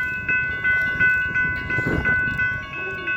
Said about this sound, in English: Oh yeah, we got a train going.